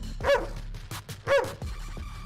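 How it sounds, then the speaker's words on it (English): Two sharp dog barks sound at a steady interval, loud and close, with a few softer yips and rustles between them and no voices. "And now it's time to hear what dogs are barking."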